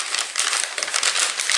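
A plastic bag crinkles and rustles continuously as it is handled up close, a bright, dense crackling texture lasting a couple of seconds.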